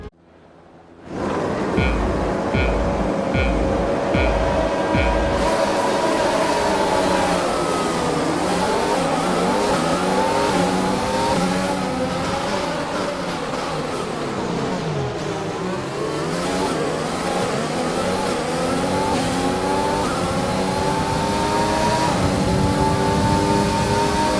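Formula 1 race cars at the Belgian Grand Prix in the video game F1 2020: engines idling, then a loud, sustained roar of many cars accelerating together, with rising and falling revving pitches throughout.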